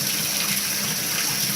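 Water poured from a measuring cup into a trombone slide to rinse it makes a steady, close gushing rush of liquid with no pauses.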